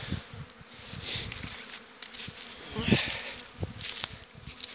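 Honey bees flying and buzzing around hives in early spring after a mild winter: a steady, droning hum of many insects, close by and continuous, with a few louder passes.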